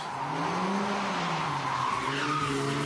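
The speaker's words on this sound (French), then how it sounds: "Et puis je me suis aussi offert une bonne petite séance de drift." A car drifts with loud, sustained tire squeal and skidding over a droning engine, the pitch wavering as the slide continues.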